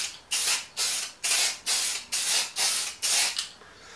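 Spray can laying a light first coat of paint on car horns, a series of about eight short hissing bursts in steady rhythm, close and fairly loud with brief gaps between.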